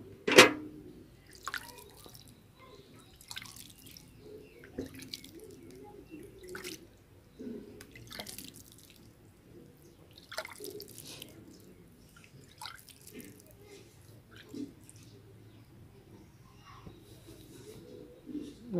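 Water drips from a freshly watered potted plant in a rooftop garden, falling as irregular, close, clear drops onto a surface, with quiet low background noise between them.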